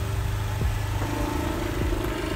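A new 2023 Honda Vario 125 scooter engine idles steadily while warming up, a close, continuous low hum with a faint rattling clatter, no talk over it.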